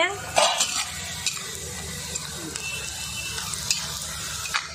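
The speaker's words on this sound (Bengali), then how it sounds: "ভেজে নিচ্ছি পেঁয়াজটাকে" Onions sprinkled with white salt frying in a pan in a village kitchen: a soft continuous sizzle with repeated scraping and clinking of a spoon stirring against the pan, close and fairly quiet.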